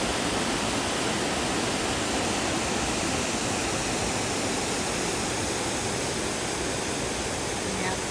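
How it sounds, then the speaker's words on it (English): Laurel Falls, a waterfall on the Appalachian Trail, pours in a steady, loud, broadband rush with no breaks, a constant dense roar of falling water close by. "Wow, Laurel Falls is absolutely gorgeous."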